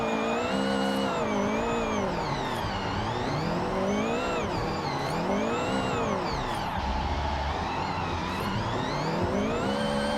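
A Forza racing car engine revs after an upshift, the loud steady whine rising and falling in pitch as the car accelerates and drifts, with a brief tire screech in the middle.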